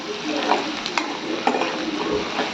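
Onion and garlic frying in hot oil in a kadhai, a steady close sizzle with a few scrapes and stirs of a spoon against the pan, no voices.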